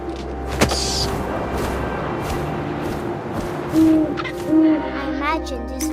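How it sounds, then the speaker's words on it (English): Owl hooting in the video game What Remains of Edith Finch, a few soft low calls over a steady windy ambience, with no speech. "And suddenly, I was an owl."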